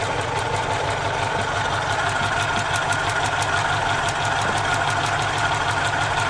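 A Suzuki car engine runs at a steady idle after starting, with a continuous close mechanical rumble and a faint rapid ticking. No one speaks.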